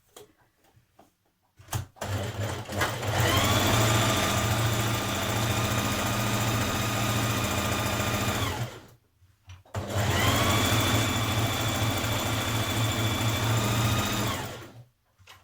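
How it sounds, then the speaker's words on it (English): A domestic sewing machine runs in two long steady bursts, stitching a stretch-knit sleeve seam to the end and reinforcing it, with a short pause between runs and a constant whirring motor close by. "we're going to stitch all the way along the sleeve to the end and reinforce at the end"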